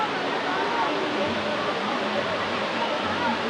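Thatiguda Waterfall at Araku gives a dense, steady roar of rushing water, broadband and unbroken. Faint voices sit beneath it.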